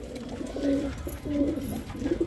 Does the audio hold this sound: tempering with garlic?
no